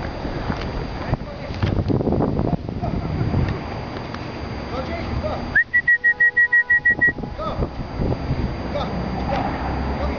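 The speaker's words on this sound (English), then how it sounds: "Keep whistling." A person whistles in a snowy park to call a dog, a bright rapid warbling whistle in the middle of the clip, surrounded by people talking and wind noise on the microphone.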